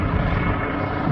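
A police helicopter flies overhead, its steady, loud rotor and engine roar filling the air without talk.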